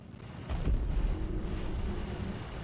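A ship in a video game comes under fire: a deep, rumbling boom of incoming shots erupts about half a second in and settles into a sustained low roar with scattered sharp cracks.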